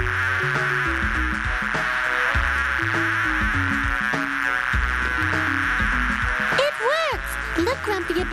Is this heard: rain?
no